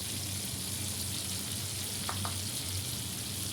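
Sweet wash water poured into a hot pan, giving a steady, fairly quiet broadband sizzle that holds evenly throughout, with a couple of faint ticks near the end.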